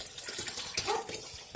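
Water runs and splashes briefly while grated coconut is washed through a second time with cold water, a short close trickle with bubbly spatter.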